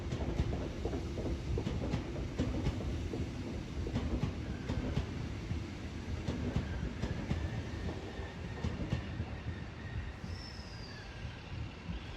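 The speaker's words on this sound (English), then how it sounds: "here is an Endeavour set coming into platform 2" An NSW Trainlink Endeavour railcar set rolls into platform 2 at Newcastle Interchange, a steady rumbling clatter of wheels on rails with rhythmic clicks and a brief faint squeal, continuous and fairly close throughout.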